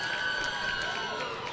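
Crowd cheering and applause at a women's Australian rules football grand final, Rovers vs Alkamilya, rising right after a kick; a broad, steady roar of spectators with a whistle-like tone running through it.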